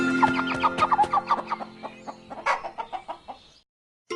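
Chickens cluck close by in a quick run of short, rhythmic clucks, then give a few louder squawks that trail off into silence. No voices are heard.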